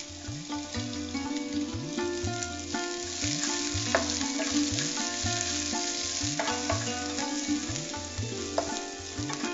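Chopped onions frying in oil for a vegetable kasi, a steady close sizzle with occasional stirring that carries on throughout under background music.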